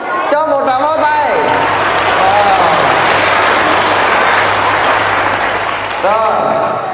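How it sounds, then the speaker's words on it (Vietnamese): A class of children applauding during a talk by a Buddhist monk, loud continuous clapping mixed with excited young voices and shouts at the start and end. "Cho một tràng pháo tay"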